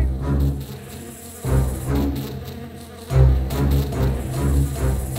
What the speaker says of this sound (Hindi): डोरेथी और उसके दोस्तों ने देखा कि उनकी तरफ मक्खियाँ आ रही हैं